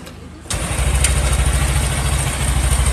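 Yamaha Mio J motorcycle engine cranking into life after a brief quiet moment, then settling into a steady, pulsing idle close by with no talk.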